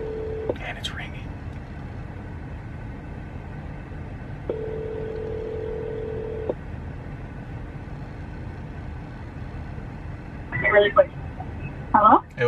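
An outgoing phone call ringing: a short buzz of ringback tone, then a longer steady one a few seconds later, fairly faint over a low room hum, with brief voice sounds at the end.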